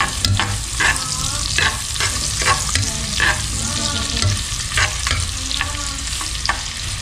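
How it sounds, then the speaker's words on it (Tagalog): Aromatics sauté in a pan for Filipino papaitan, a steady loud sizzle broken by repeated scraping stirs of a spatula at an irregular rhythm, close by with no talking. "bali magigisa muna tayo ng ating ulam"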